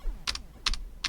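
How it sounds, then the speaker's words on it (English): Three crisp, close keystroke clicks on a computer keyboard come in quick succession, each a sharp double tap, with no voices. "Keyboard goes burr. It does indeed go burr."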